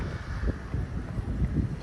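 Wind blowing outdoors at a city arena grounds in Dasmariñas, Cavite, a steady low rushing roar with gusty buffeting against the microphone, no voices.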